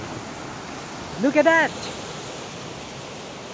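Sea waves wash in a constant soft hiss of surf. A voice briefly speaks over it partway through.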